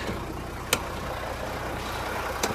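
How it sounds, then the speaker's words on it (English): A tanker truck's engine rumbles steadily as the power take-off on the gearbox is engaged, with two brief clicks over the idle. "you push that in, that fires up the PTO on the gearbox"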